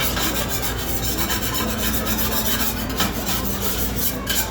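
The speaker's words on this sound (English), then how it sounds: "we use a spatula to scrape down the inside of the hopper" A spatula scrapes residual pasta dough from the inside of the hopper on an Arcobaleno AFX 90 pasta machine, a close, continuous rubbing and rasping with a few faint clicks.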